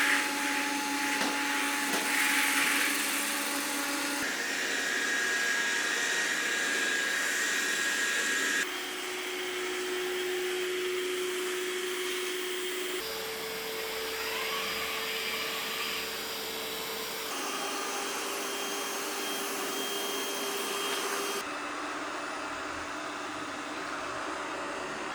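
Several robot vacuums priced between $300 and $600 run one after another in a home, each a steady whirring hum with brushes and fan, stepping down from the loudest to the quietest in roughly four-second turns.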